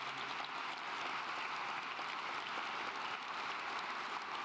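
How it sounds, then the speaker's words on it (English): Steady applause from a conference audience, a dense continuous patter of clapping at a distance, with no voices over it. "please give a great applause to our initiators, Michael Otto and his foundation."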